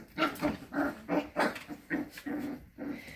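A litter of young puppies barks, yips and whines in a rapid, uneven run of bursts, close and fairly loud, with no voices over them.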